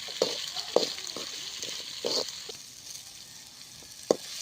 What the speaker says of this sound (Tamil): இப்போ எல்லாத்தையும் ஒன்றா போட்டு நல்லா வதக்கிக்கலாம் நல்லா ரோஸ்ட்டாக வதக்கி எடுத்துக்கலாம்